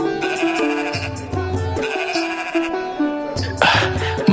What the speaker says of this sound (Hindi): ये भेड़ें तो बड़ी ही अच्छी नस्ल की लग रही हैं